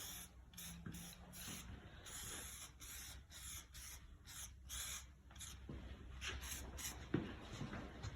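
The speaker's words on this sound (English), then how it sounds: "adhesion promoter, and I'm gonna lightly mist this stuff all over here." An aerosol can of adhesion promoter mists lightly over a car intake in short repeated hissing bursts, close and quiet, with no talk.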